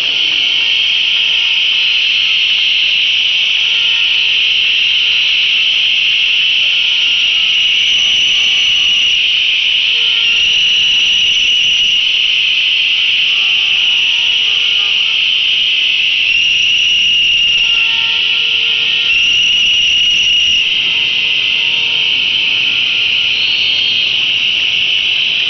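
Loud, continuous shrill whistling from a crowd blowing whistles at a rally at Pathumwan intersection, a piercing sustained tone with slight wavering, dense and unbroken throughout, no voices on top.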